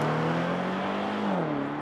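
A 2024 Range Rover Sport SV P635 V8 pulling away on the road, a steady close engine drone with a rising then settling tone throughout, no talk.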